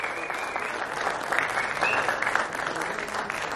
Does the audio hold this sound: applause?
yes